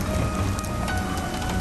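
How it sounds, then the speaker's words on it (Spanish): Steady rain falls at night among the ruins of Armero, a dense, even hiss of drops on surfaces that continues unbroken and fairly loud, with no voices. "síntoma de que pronto, espero, deje de llover"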